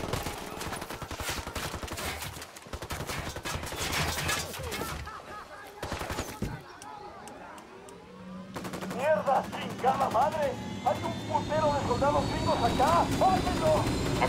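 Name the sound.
gunfire in the video game Ghost Recon Wildlands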